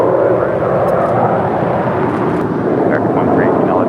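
An airliner roars down LAX runway 25 right on its takeoff run, a loud broadband engine rumble sustained throughout, with radio voices talking over it.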